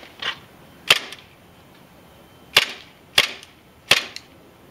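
An HFC Darkhawk airsoft gun running on propane fires four sharp, close single shots at uneven intervals, with quiet stretches between them and no voices.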